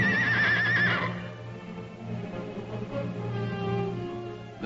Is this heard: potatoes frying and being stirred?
no